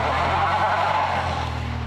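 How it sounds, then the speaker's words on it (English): Mitsubishi Outlander with all-wheel drive driving on ice, a steady, loud engine drone with a low hum and broad tire-and-road roar throughout, close to the vehicle, with no talk. "We had a great opportunity to drive the Outlander today on the ice"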